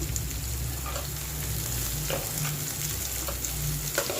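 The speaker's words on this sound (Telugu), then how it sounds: "లైట్గా వేగిన తర్వాత ఉల్లిబందు కూడా వేసేసుకున్నాము" Onions fry in a pan for a shark fish fry, a close, continuous sizzle with occasional stirring scrapes and a low hum underneath.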